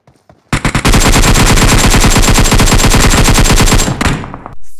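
A long, loud, continuous burst of automatic gunfire in PUBG Mobile, close and steady for about three seconds before cutting off, with no talk over it.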